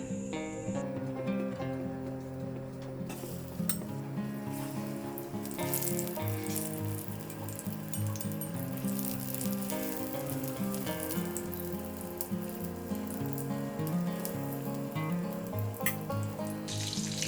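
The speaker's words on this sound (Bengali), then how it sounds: "এবার আমি এই ব্যাটারের মধ্যে একটা করে দেব দিয়ে এটা হালকা করে ভেজে নেব" Battered banana flower pieces shallow-fry in oil with a continuous dense crackling sizzle that holds at an even level for the whole stretch, close up, with no one speaking.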